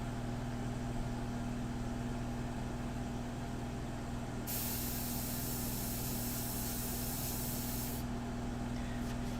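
An airbrush sprays India ink onto a freehand shield for a portrait painting, a loud steady hiss bursting in for a few seconds over a constant low compressor hum.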